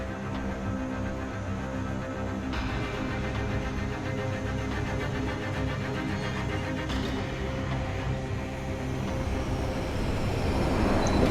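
An airplane in the Dead Island video game drones overhead as a steady, dense engine roar that swells slightly toward the end, continuous and fairly loud with no talking.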